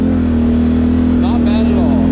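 Steady idle-like drone of a 2022 Can-Am Renegade 650 XMR ATV engine held at half throttle on new tires, loud and close with a constant low hum.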